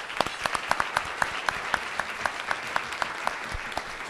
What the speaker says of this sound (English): I'd like to offer up a round of applause.